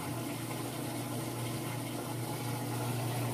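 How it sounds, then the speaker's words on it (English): A Kenmore washing machine drains its water with a continuous, even rushing and gurgling whoosh, quiet and unbroken throughout, with no speech. "As you can hear, all the water is draining out perfectly."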